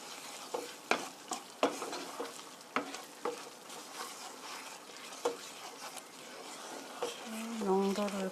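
Fusilli in tomato sauce with parmesan cheese is stirred in a pan, giving repeated wet scraping clicks and soft sizzling, close up, with a short voice near the end.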